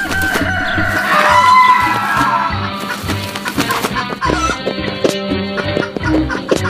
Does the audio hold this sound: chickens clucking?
yes